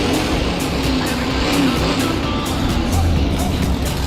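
A monster truck, the Coda XL, runs in a best-trick competition with a loud, steady engine roar that holds constant throughout, mixed with crowd and arena noise under a commentator's voice.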